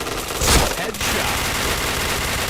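Gunfire in the Point Blank shooting game, with a quick burst of shots followed by steady, loud game noise for a couple of seconds.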